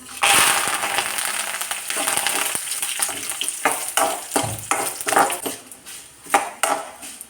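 Dried red chillies, curry leaves and urad dal sizzle and crackle in hot oil in a pan, with steady loud frying and a spoon clinking and stirring against the pot throughout.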